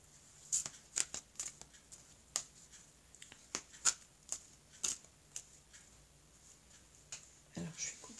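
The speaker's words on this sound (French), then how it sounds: "Alors je vais couper le jeu et je vais compléter." A deck of oracle cards is shuffled and cut by hand, giving a string of crisp, close-up riffling snaps and flicks at irregular intervals, with quiet pauses between them.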